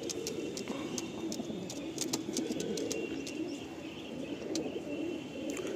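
Andhra tippler pigeons coo softly in a low, steady murmur, with scattered faint chirps and light clicks.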